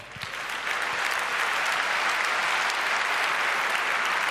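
A conference audience bursts into a round of applause to welcome a security researcher onstage, dense steady clapping that swells in the first half second and holds loud and even throughout.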